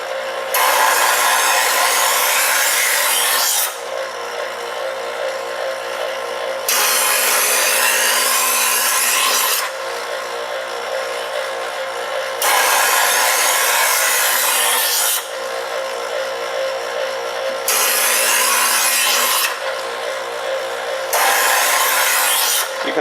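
A blade is ground against a diamond sharpener in slow, even strokes. Each stroke is a loud, close rasping scrape of about three seconds, followed by brief quieter gaps, repeated about seven times.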